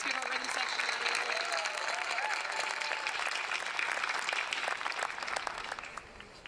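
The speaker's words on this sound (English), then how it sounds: "Let's give our rhythm section a round of applause." Audience at a high school spring concert breaks into steady, dense applause that fills the hall and carries on throughout, tapering slightly near the end, with faint voices mixed into the clapping.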